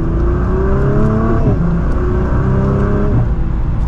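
A Nissan GT-R R35 accelerating hard from second gear, its engine rising loudly in pitch with a brief drop at a gear change before climbing again, heard close from inside the car.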